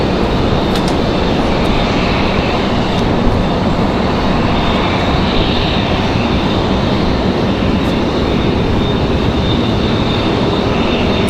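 An airliner rolls along the runway at Raleigh-Durham International Airport, a loud, continuous broadband engine roar that stays steady throughout.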